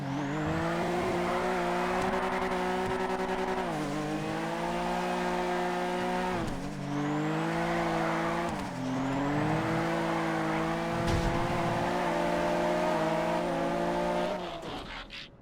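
Cars drifting through a random race in GTA FiveM, the game engines droning loud and steady with rising and falling revs, tires squealing through the slides and brief dips between corners.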